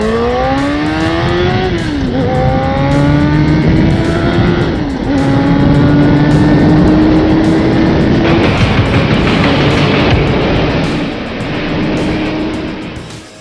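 Suzuki RF900R motorcycle engine revving hard and accelerating up through the gears, loud and close, with a rising whine that drops at each shift before climbing again.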